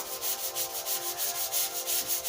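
Rhythmic back-and-forth sanding of primer varnish on the body of a Maison guitar under restoration, about a dozen steady strokes close and alone, with no talk.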